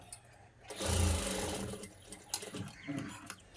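Sewing machine stitching a blouse, a steady close whirring run of stitches for about a second that then continues more lightly in short bursts, alone with no talking.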